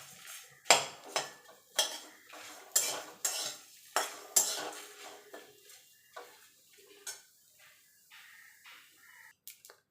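Four or five garlic cloves and a small onion fry lightly in a pan while a spatula scrapes and stirs in a steady run of about a dozen close, distinct strokes over a faint sizzle.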